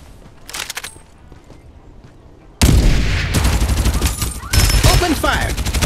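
Farlight 84 gunfire breaks out after a quieter lead-in: dense, loud bursts of automatic shots stacked over explosions, with game voice lines heard amid the barrage.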